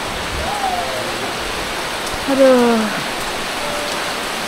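Steady rain falls on a dilapidated village house with a leaking roof, a continuous hiss of drops throughout, with a brief exclamation and faint voices partly over it.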